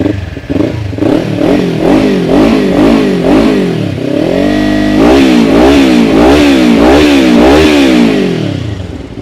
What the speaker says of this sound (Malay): Jom let's go, kita dengar bunyi motor ni.